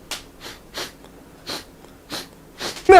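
A person imitates loud, wet sniffling, giving six or seven sharp nasal inhales spaced evenly about half a second apart, up close, before a voice cuts in at the end.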